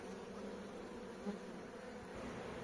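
Honeybees hum in a soft, steady drone close by at the hive, a faint continuous buzz with no voices.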